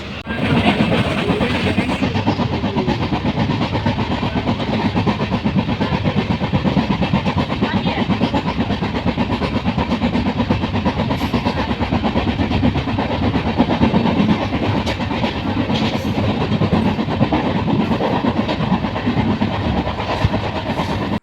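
Continuous rumble and rattle of a moving passenger train heard from inside the carriage, with steady wheel clatter on the rails, broadband and unbroken throughout.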